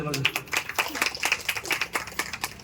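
An audience claps at a speech for a new shop opening in Madgaon, with a run of sharp, uneven claps mixed with voices talking over them.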